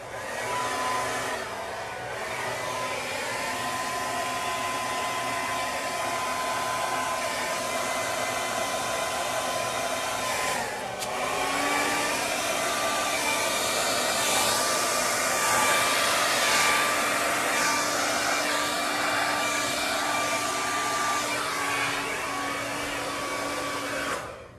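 A hair dryer blows steadily and close up, pushing white paint over the colours of a large acrylic Dutch pour. Its loud, continuous whine shifts a little in pitch as it moves, with no talking.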